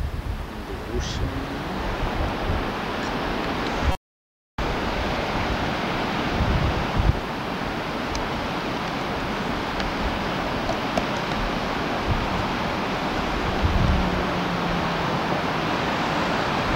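Surf rolls onto an Oregon beach below a steep mountainside road, a continuous broad wash of breaking waves mixed with wind rumble on the microphone, steady throughout apart from a brief dropout.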